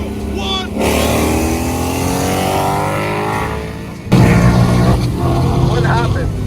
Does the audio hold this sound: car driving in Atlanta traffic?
yes